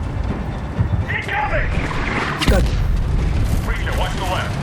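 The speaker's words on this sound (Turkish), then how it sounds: "Patlamalar var." Explosions rumble and boom during a Taliban airfield assault in the video game Medal of Honor (2010), set in Afghanistan. Heavy low blasts and battlefield clatter roll on continuously, with a sharp loud bang partway through.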